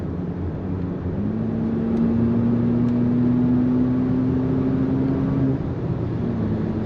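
Haval H6 GT car accelerating in race mode, heard from inside as a steady engine drone and whir that rises gradually in pitch over several seconds before dropping back, with no talking.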